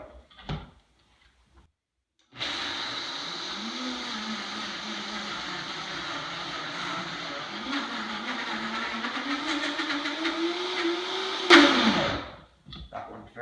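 A Vitamix blender grinds peanuts for peanut butter, a loud steady motor roar lasting about nine seconds with a wavering pitch that climbs near the end before cutting off abruptly.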